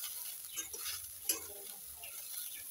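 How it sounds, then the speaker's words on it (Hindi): Carrot halwa mixture fries in a pan with cloves and cardamom, giving a soft, steady sizzle under quiet stirring scrapes, with one sharper knock of the spoon partway through. "अब ये नहीं पका है, इस पे क्रंची बन ही है, तो इसको और अच्छे से फ्राई करना पड़ेगा"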